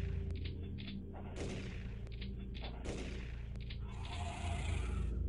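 Gunshots in the strategy game XCOM, several booming shots with noisy bursts and a lingering blast near the end, set against a low hum and short electronic game tones, fairly quiet overall.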